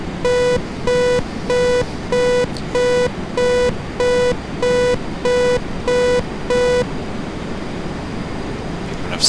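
Repeating landing gear warning alarm of a T-38A jet in the Prepar3d flight simulator, a steady train of about eleven evenly spaced electronic tones sounding loud over cockpit engine hum, then stopping as the drone continues alone.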